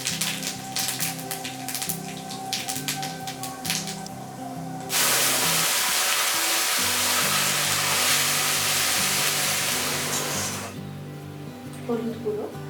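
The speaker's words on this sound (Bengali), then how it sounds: "তেলটা গরম হলে এর মধ্যে আমি শুকনো লঙ্কা আর সাদা জিরে ফোড়ন দিয়ে দিচ্ছি।" Dried chili and white cumin hitting hot mustard oil, a sudden loud hissing sizzle that swells for several seconds then settles, with clattering and talk before and after.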